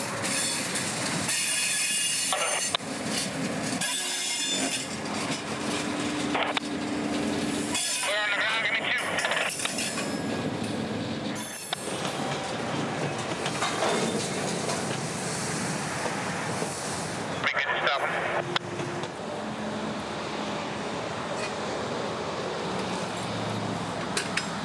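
A CSX freight train backs onto the main line on the Brooksville Sub, its wheels squealing and cars clattering loudly and continuously, with talk heard over the rumble.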